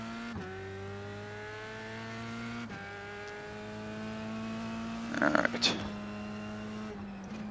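An F3 race car engine in iRacing at the Nurburgring, a strained high whine climbing through the revs with sharp drops at gear shifts and a brief burst of tire or curb noise, while someone briefly talks.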